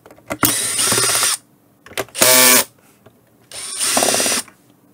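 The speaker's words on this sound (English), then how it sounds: "Let me magnetize the screwdriver so we can get the screws out." Powered screwdriver or drill running in three short whirring bursts with pauses between, close and fairly loud, while removing screws from an HME DX300 wireless base unit.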